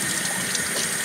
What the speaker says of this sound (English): We're going to rinse these out once they're cut in half because they can be pretty dirty.